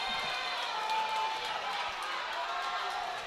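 A split wrestling crowd at a live independent show cheers in a steady, dense roar with no breaks. A commentator's voice runs over it.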